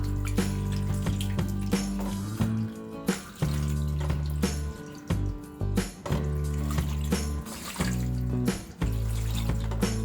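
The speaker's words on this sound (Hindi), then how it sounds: "अब हम ये मूली को अच्छी तरह से 2-3 बार पानी से धो लेंगे।" Radish pieces are washed in a bowl with a strainer under running tap water: a continuous splashing stream with sloshing, dripping and clattering interruptions as the pieces are rinsed, close and fairly loud, no talk.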